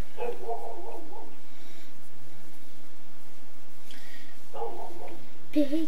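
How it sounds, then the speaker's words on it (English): Dogs bark in short bursts near the start and again toward the end, with quieter stretches in between inside a room. "Stupid dogs."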